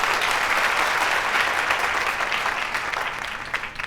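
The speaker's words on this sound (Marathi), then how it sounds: "सगळ्यात आधी टाळ्या वाजून स्वागत करूया सनीचं" A studio audience claps loudly and steadily to welcome a guest onto a talk show, dense sustained applause that tapers off slightly near the end.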